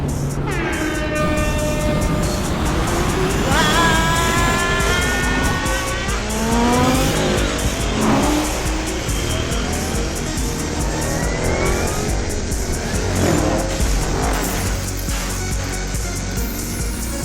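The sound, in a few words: race car engine revving and tires squealing, audio drama effect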